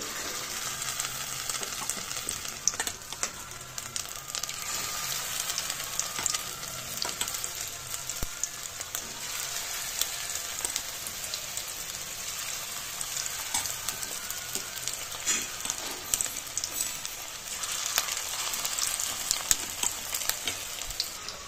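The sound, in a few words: frying chicken pakoras in oil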